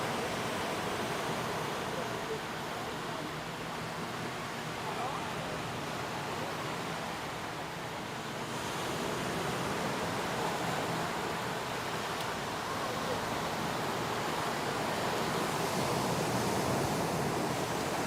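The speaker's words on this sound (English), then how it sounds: "the ocean sounds put you to sleep" Steady ocean surf washes onto the sand of Koh Samet beach in Thailand, a continuous broadband rush that swells gently without distinct breaks and runs throughout with no voices.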